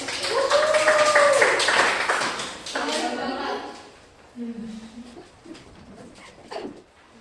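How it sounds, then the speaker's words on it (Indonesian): Schoolchildren clap together in a classroom lesson, a burst of rapid claps with young voices calling out over it, tapering into scattered claps and chatter. "Tepuk tangan dulu."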